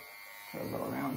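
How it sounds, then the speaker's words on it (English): An electric grooming clipper buzzes to life on a terrier mix's fur, starting abruptly halfway through the short moment and humming steadily and close after a quiet start. "Get my clipper upside down."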